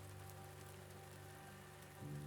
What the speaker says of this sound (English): you hear the pitter-patter as it starts to rain. Just gently.